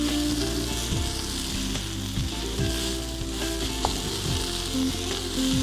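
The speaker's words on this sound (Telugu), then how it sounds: "సో కొత్తిమీర కూడా వేసేసుకున్నాం, దీన్ని కూడా ఫ్రై చేసేసుకున్నాం." Fresh coriander leaves fry in a hot curry mixture for paneer puffs, a steady close sizzle with occasional stirring scrapes running throughout, with no voices.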